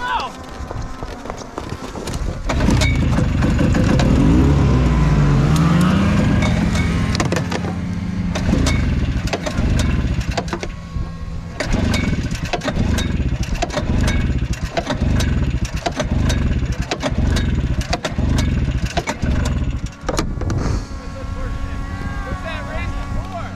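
Snowmobiles race around a homemade oval track, their engines droning loud and close, then breaking into rapid rhythmic bursts and passes, with voices talking over the noise.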